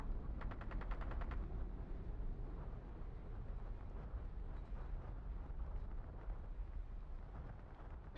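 Distant gunfire from Ring of Elysium, with a quick rattling burst early on, then scattered faint shots over a steady, windy background rumble.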